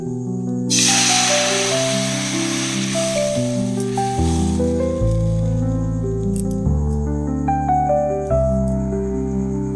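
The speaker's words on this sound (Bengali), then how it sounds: "জল ঢেলে দেবো কড়াইতে" Water poured into a hot wok on a gas stove hisses loudly, with a sharp sizzling burst at the start that fades gradually as music plays underneath.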